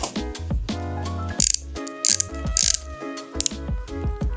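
A lipstick tube twisted by hand, a rapid series of sharp plastic ratcheting clicks in uneven bursts, close and fairly loud with no voices.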